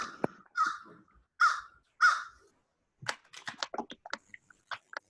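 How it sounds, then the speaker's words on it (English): A crow in a backyard gives four distinct caws in a slow series, fairly close. A burst of faint clicking and tapping follows. "That's my crow"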